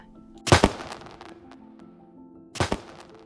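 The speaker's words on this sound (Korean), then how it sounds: "폭죽을 쏴댔습니다" Two sharp crackling firecracker bursts, one early and one near the end, go off against a quiet background in a staged audiobook drama scene. Each burst is a quick cluster of loud pops with faint thuds between them.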